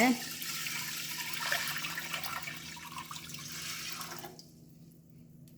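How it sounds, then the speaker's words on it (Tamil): Water runs into a pot of soaked green gram, a steady close splashing pour for about four seconds that then stops, with faint speech in the background. "தண்ணி வந்து குத்து மதிப்பாக எடுத்துக்கோங்க."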